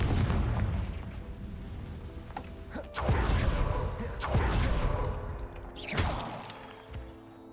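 A Confringo fire spell bursts repeatedly in the wizarding video game Hogwarts Legacy, each cast a sharp booming blast with a crackling tail, about four spaced explosions at moderate volume over faint background game sound.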